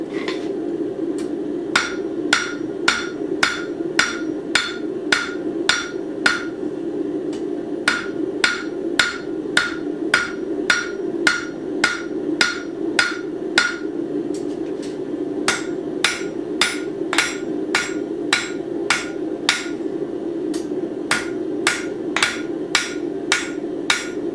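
Hand hammer forging metal on an anvil, a long series of sharp ringing strikes in an uneven rhythm with brief pauses, heard close over a steady low hum.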